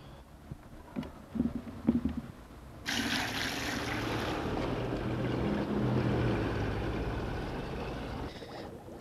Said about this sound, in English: and then we add the water.